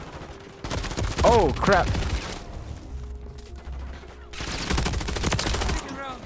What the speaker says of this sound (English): Good thing he shot his gun.